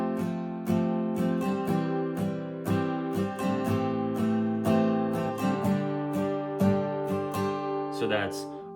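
Acoustic guitar intro of a worship song, played with steady down strums on each chord: a clear, ringing, rhythmic strumming pattern close up, with no voices, ending on a brief scrape.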